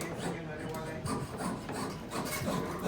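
Rhythmic rasping strokes of a hand saw cutting metal, close and fairly loud, repeating back and forth without pause.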